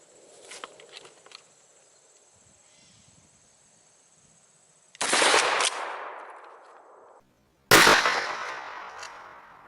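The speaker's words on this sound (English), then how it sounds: "Let's take one last shot with our double out buck to see what type of pattern we get." A KSG 12 shotgun loaded with 00 buckshot through a .675 turkey choke fires two loud, sharp blasts a few seconds apart at 7 yards, each ringing out and decaying after a quiet stretch of faint background.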